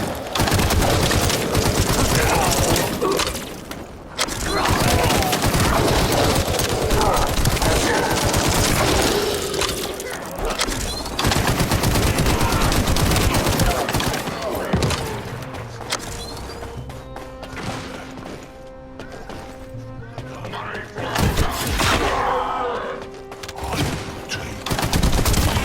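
Gunfire in The First Descendant video game comes in dense, sustained bursts of rapid shots with booming impacts. It runs loud and nearly continuous, easing briefly in the middle with a few quieter gaps before firing picks up again.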